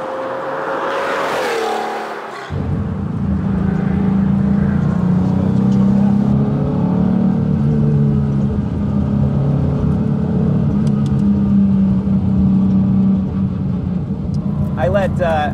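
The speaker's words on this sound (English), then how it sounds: "that's an air-cooled 997 Cup car for the street." An air-cooled 1985 Porsche 911 G-body street car fitted with 997 Cup performance parts: a steady, loud engine drone with rumbling low harmonics starts abruptly after a brief quieter moment and holds for the rest of the drive.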